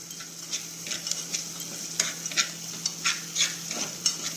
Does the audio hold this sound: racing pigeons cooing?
no